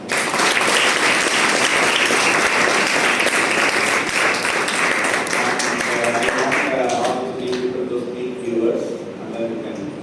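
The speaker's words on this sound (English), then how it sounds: "give them a big applause." An audience at a medical awareness session breaks into sustained, dense clapping that stays loud for several seconds, then thins out and fades as a voice begins speaking over the last scattered claps.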